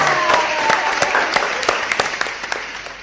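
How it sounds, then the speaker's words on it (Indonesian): A brief round of applause from a small audience closing a podcast, scattered sharp hand claps over a steady wash, fairly loud and close, with no speech. "Tepuk tangan."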